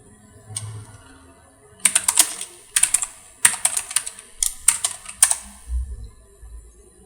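Close, crisp keystrokes on a computer keyboard as a command is typed in bursts of rapid clicks separated by short pauses, with a low thump near the end, no speech.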